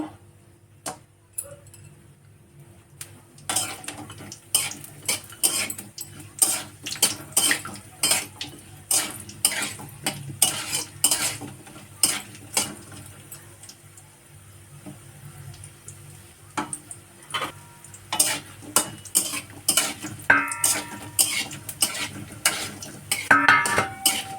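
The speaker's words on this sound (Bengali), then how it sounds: "ডাল বড়ি ভেজে নেব।" Lentil dumplings (dal bori) being fried in a pan, with repeated sharp clinks and scrapes of a utensil against the pan in an irregular rhythm over a low, steady background.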